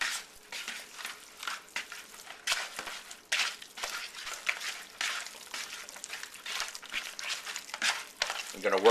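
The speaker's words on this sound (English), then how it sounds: "I'm going to work this into the beef." Hands work a marinade of egg white and a little water into raw beef, producing soft wet squelches and slaps that come in irregular bursts, close and fairly quiet.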